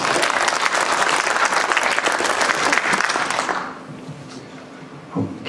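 An audience claps loudly at a public comment meeting of a Clinton, Connecticut town body, then the applause fades out to a quiet room with a faint thump.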